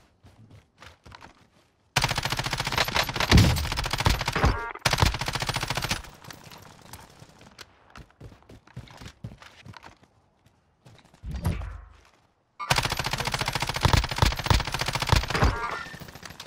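Bursts of RAM7 assault rifle fire ring out in Call of Duty Warzone, loud sustained automatic volleys at close range, broken by pauses with quieter background game sounds and a short burst in between.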